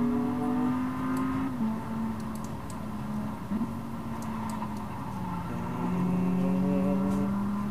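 Car engine droning steadily in the racing video game Volvo The Game, with the pitch stepping and gliding between gears as the car is driven, continuous and fairly loud throughout, no talking.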